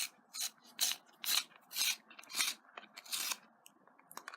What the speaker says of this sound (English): So I've got my little handy-dandy sharpener here.